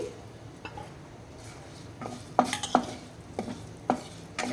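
Cumin, coriander seeds and green chilies frying in a heated pan, a low faint sizzle under several sharp scraping clinks of a spatula stirring, with a quick cluster of knocks in the middle and no speech.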